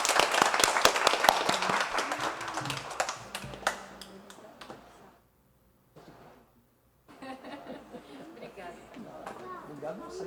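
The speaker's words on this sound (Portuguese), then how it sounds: "vamos dar uma salva de palmas para a família" A church congregation at a Sunday morning service bursts into dense, close clapping for a family, the applause loud at first and then thinning out before a pause, with speech resuming over scattered noise afterward.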